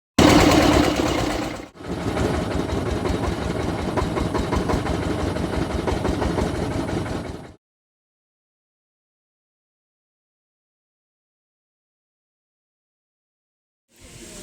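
A boat engine running before departure, a loud mechanical chugging that stops abruptly partway through, followed by several seconds of silence before the sound briefly returns.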